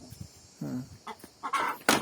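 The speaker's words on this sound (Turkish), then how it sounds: "Aa, tavuk tavuk da kaçıyor." A farmyard chicken gives a few short, soft clucks in a quiet village setting, faint and intermittent with no talking over it.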